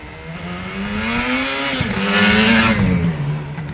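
A 1978 Yamaha RD400 two-stroke motorcycle ridden hard by a racer, its engine note climbing and dipping steadily through the revs, loud and close with no talking.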